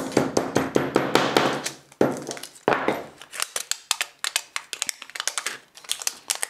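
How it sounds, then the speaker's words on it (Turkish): Repeated sharp hammer blows in a steady rhythm, close and loud, striking a hard surface with metallic ringing between hits. "Ben çekiç kullanabilirim."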